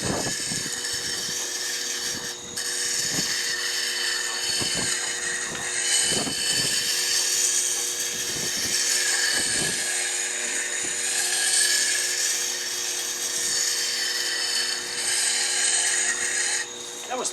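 A power tool grinds steadily as it sharpens a blade in three passes, a continuous close whine with intermittent scraping bursts and faint talk underneath.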